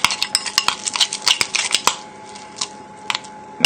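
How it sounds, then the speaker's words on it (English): Chicken Kiev ingredients are mixed in a bowl, producing a quick run of sharp clinking and scraping strikes from a utensil against the bowl that thins out into a few scattered knocks, close and fairly loud, with no voices. "once it gets going we can nicely mix it together"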